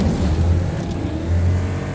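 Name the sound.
high displacement V8 engine revving in a racing video game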